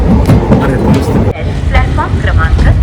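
Kalaburagi–Kolhapur train standing at Pandharpur station, a steady loud rumble with a sharp break midway, while people talk nearby.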